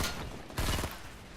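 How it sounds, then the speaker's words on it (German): A three-round burst weapon fires in the Fortnite video game: one short, moderately loud burst midway through a quiet stretch of game sound. "das ist so ein 3-Schuss-Automat"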